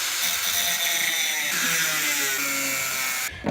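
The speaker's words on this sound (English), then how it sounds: "I'm going to hit that with the angle grinder and get my piece of steel" An angle grinder cuts through a piece of steel, giving a loud, steady high-pitched whine that runs unbroken and stops abruptly near the end.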